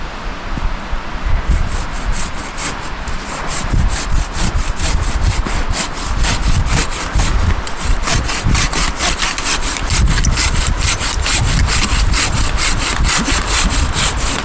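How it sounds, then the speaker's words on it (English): Steady back-and-forth strokes of a large Silky pruning saw cutting through wood outdoors in freezing weather, close and loud, the rasping rhythm continuing without a break. "So this is a big boy silky saw."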